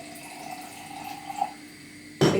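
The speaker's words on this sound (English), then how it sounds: "fill it up halfway with water, give it a good mix" Water pours into a cup from a tap to fill it halfway, a soft rising trickle that ends in a brief louder splash or clatter, close with no voices.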